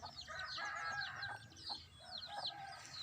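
Chickens cluck and squawk in a busy, overlapping chorus, faint and somewhat distant, with short bursts of calls.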